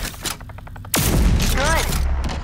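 A single solid shotgun slug fires in Rage 2, one loud sudden blast with a heavy booming tail after a brief lead-in of game sound.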